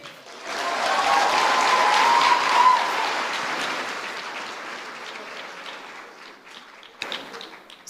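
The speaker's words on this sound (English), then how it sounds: "Clap it out if you want." An audience claps in a room, a dense spread of applause that swells quickly, holds steady, then thins out and fades, with a few scattered claps near the end.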